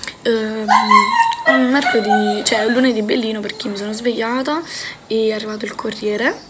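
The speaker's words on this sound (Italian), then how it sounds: "Scusate i cani, ma sono fuori" Dogs bark and whimper outdoors, high yelping calls mixed under a woman's steady close-up talking in Italian.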